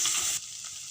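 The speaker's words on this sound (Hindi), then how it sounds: "अब हम इन मसालों को इसमें भूनेंगे 1 मिनट।" Ground spices such as turmeric and red chili powder frying in a pan for a jackfruit curry, a bright steady sizzle that cuts down suddenly partway through, then continues softer.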